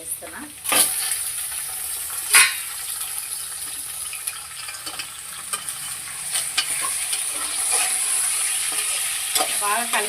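Mutton hits a pan of fried onion and green chilli for curry, a constant bright sizzle with scraping stirs and occasional clinks, close up.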